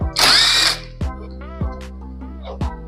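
An impact power tool bursts into a loud, high whine while removing the front 14-tooth sprocket of a TVS Raider 125 motorcycle. Three sharp metallic clacks follow at roughly even intervals, close by in a workshop.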